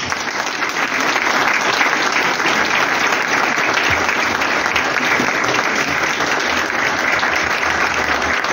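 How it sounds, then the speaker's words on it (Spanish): A crowd at a ceremony claps for a worker being honored, producing a steady, thick roar of applause that holds at an even, loud level for several seconds without any talking. "Un aplauso para el compañero Miguel Ángel Faúndez."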